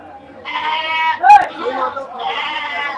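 Goats bleating at a Friday livestock market in Ettayapuram, Tamil Nadu: two drawn-out, close bleats with a sharper cry between them, while people talk nearby.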